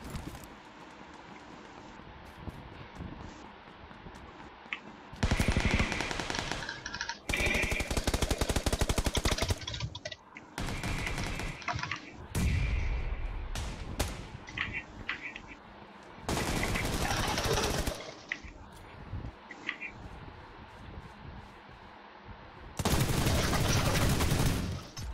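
Gunfire in the battle royale game PUBG Lite: loud, dense bursts of automatic shots separated by quieter gaps, with no speech.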